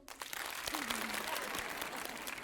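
An audience applauds steadily, a full crowd of clapping hands filling the whole stretch, with a faint voice briefly audible underneath.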